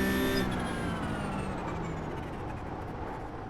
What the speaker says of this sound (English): We're gonna try braking as much as the car is capable of here.